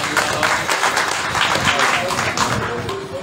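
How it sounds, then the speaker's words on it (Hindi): An audience at an Ekadashi religious gathering in Hapur claps for the hosts, a dense, sustained patter of many hands that carries on evenly beneath voices in the room. "इनके लिए ताली बजाओ"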